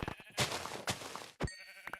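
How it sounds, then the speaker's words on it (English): A few short bleats from a white sheep in Minecraft, moderately close, separated by brief gaps, with a faint voice murmuring softly in the background. "Come here, little white sheep."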